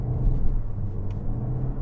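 A 2024 Toyota C-HR hybrid SUV drives in sport mode, heard from inside the cabin as a steady, fairly loud low engine and road rumble with slight surges, with no talking.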